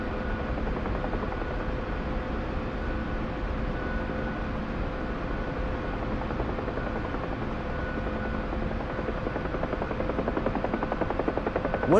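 A helicopter in the DCS flight simulator game drones steadily, its rotor and turbine making a continuous, even roar with a faint hum, unbroken for the whole stretch, with no talk.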